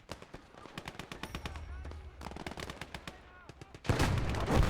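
Rapid bursts of gunfire crack through a World War II battle in Gates of Hell, with grenade blasts booming in the last second; the shots come in dense, close volleys while someone speaks over the action.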